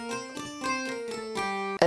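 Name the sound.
Taishogoto sample instrument with room reverb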